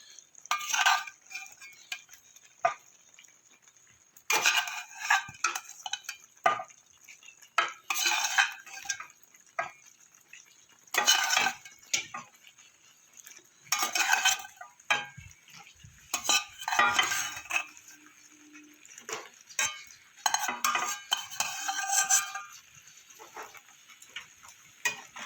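Chicken and potatoes are stir-fried with spices in a pan, with repeated metallic scraping and clattering from the spatula that comes in bursts with short pauses. A faint, steady background tone runs underneath.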